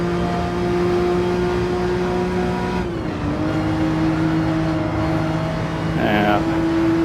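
A Porsche 911 RSR race car engine drones loud and close while lapping Suzuka in Gran Turismo 7, its steady pitch dipping on a gear change, then rising again late on.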